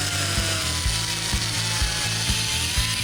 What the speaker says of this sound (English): now to cut this out here so that we can bend along this line